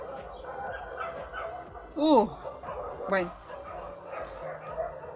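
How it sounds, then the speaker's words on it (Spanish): Dogs bark and yip indoors, two sharp wavering outbursts a second apart, with someone talking softly around them. "ay los perros por dios"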